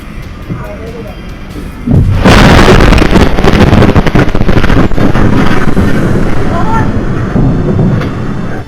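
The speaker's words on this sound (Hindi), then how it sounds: "फैक्ट्री में ब्लास्ट के वक्त एक दुकान का सीसीटीवी फुटेज सामने आया है जिसमें धमाके की आवाज रिकॉर्ड हुई है" A factory explosion in Dombivli, Maharashtra, recorded on a shop's CCTV: a deep, roaring blast suddenly erupts over steady background noise and then rumbles on loudly for several seconds.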